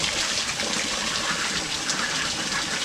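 Water gushes steadily as it is poured out for ducks on a farm, a continuous close splashing rush with no talking over it.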